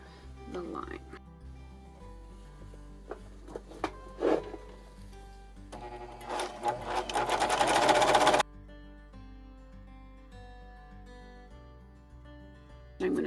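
A serger sewing machine stitches fabric for a safety mask. It starts with short bursts, then runs in a louder continuous whir for a couple of seconds before stopping, leaving a quiet background hum.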